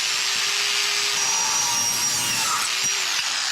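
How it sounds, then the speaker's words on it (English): A DualTools CS300 dual saw cutting through copper pipe, giving a steady, bright grinding whine with a faint rasp, continuous for a few seconds and close by. "What if you're doing plumbing and you've got a piece of copper pipe you need to cut?"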